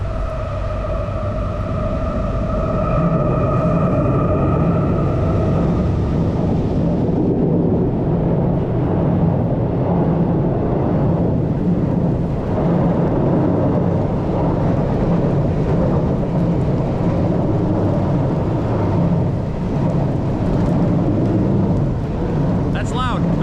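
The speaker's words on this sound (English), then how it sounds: "Another train." A train rumbles past the canal locks at Kingston Mills on the Rideau Canal, a loud sustained roar with an early horn-like tone over continuous low rumble, no speech heard.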